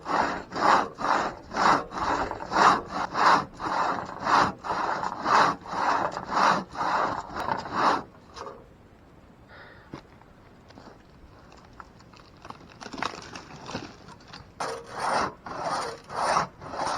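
Solo crosscut saw cutting through wood at a campsite, a rhythmic series of rasping strokes for about eight seconds, then a pause with faint handling noises before the sawing strokes resume near the microphone.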